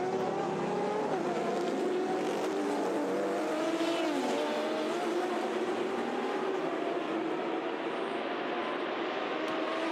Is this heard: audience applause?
no